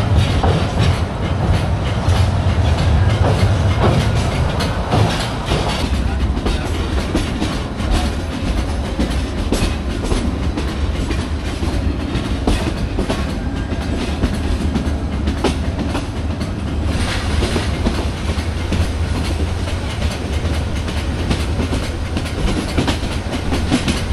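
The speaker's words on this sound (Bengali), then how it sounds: "কোনো একটা কালভার্টের নির্মাণ কাজের জন্য ট্রেনকে থামিয়ে আবার আস্তে আস্তে করে" The Kalni Express rolls slowly through tea gardens near Balla station after a stop for culvert construction, with a continuous rumble and clickety-clack of wheels on rails that builds steadily and stays loud throughout, with no voices.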